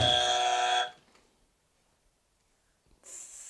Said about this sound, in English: This is a buzzer, so Hoops, you can go.